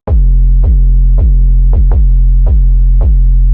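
Heavily distorted 808 bass, saturated hard with a Black Box plugin, pulses repeat in a steady pattern, each hit punchy and gritty with a thick, buzzing low rumble that never drops out.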